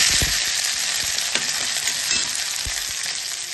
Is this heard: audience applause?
no